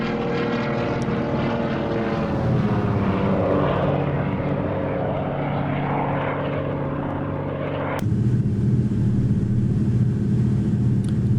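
De Havilland Beaver propeller plane engine in the X-Plane 12 flight simulator game, a loud steady droning hum with throbbing propeller tones, shifting pitch gradually and jumping to a harsher, fuller roar after a sudden change near the end.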